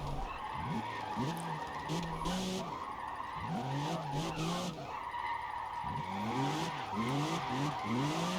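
Continuous tire screech from a car sliding through drifts in a racing video game, with repeated rising and falling squeal sweeps over a steady engine drone across the whole stretch.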